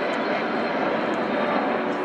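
Spanish Air Force Patrulla Aguila display jets at an air show, a steady broadband roar of jet engines holding loud and continuous throughout without a break.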